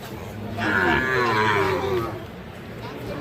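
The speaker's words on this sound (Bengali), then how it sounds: "এটাও কিন্তু একটা সার বাছুর" A young Sahiwal bull calf, three to four months old, lets out a single drawn-out moo, wavering in pitch, over soft background murmur.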